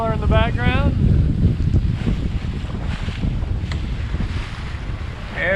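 A sailboat cuts through open Caribbean water between St Maarten and Saba, with strong wind roaring across the microphone and waves washing steadily around the hull, while a voice speaks briefly near the start.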